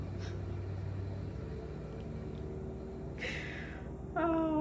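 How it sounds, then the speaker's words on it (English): Heavy trucks pass by outdoors near a residential spot where tree work is underway, giving a steady low rumble throughout with a rising whine and a harsher mechanical burst near the end. "These trucks, man."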